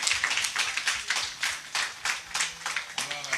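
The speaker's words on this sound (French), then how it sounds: "Continuez à acclamer le Seigneur." A congregation claps rhythmically in praise at a church baptism service, steady repeated handclaps filling the room with faint voices underneath.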